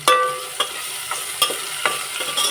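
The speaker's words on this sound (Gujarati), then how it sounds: "પછી આપણે નાખી દીધા છે ટમેટા અને મરચાંના કટકા" Tomato and chili pieces being stirred in a hot pan, a soft frying sizzle broken by several sharp clinks and scrapes of a spoon against the pan, close and alone with no talk.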